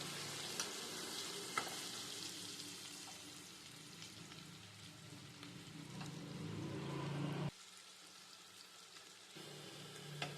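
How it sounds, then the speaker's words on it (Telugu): Spiced paneer pieces fry on a medium flame in a pan, giving a steady close sizzle with light stirring scrapes. The sizzle drops sharply partway through and then carries on more quietly. "మసాలాలు పట్టించిన పన్నీర్ ముక్కల్ని వేసుకొని వేయించుదాం ఇలా వేసుకొని మీడియం ఫ్లేమ్లో పెట్టుకొని వేయించుకుందాము"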